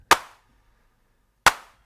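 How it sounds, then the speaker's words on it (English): A Bitwig 808 clap device fires two short, dry electronic clap hits, spaced about 1.3 seconds apart, each a crisp sharp snap with a brief decaying tail and silence between. "In this case it's Bitwig's 808 clap device."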